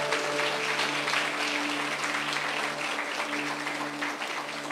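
A church congregation applauds the Lord in a steady, dense wash of clapping that holds evenly throughout, with a low sustained tone underneath, likely music.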